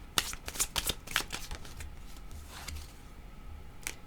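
Tarot-style cards are handled up close while one is drawn, giving a quick run of crisp flicks and riffling snaps at first, then sparser soft slides and taps in a quiet room.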